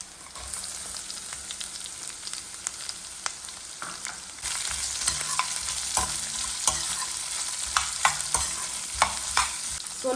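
Chopped chillies, curry leaves and sliced onion stirred in a hot oiled pan, a steady sizzle with scraping spoon strokes that grow louder and more frequent midway, no talking.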